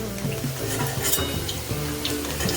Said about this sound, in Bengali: এই যে পনির যেটা লাল লাল করে ভাজা হচ্ছে